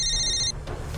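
A telephone rings with a single bright electronic trill, loud and close, cut off after about half a second and leaving a steady low room hum.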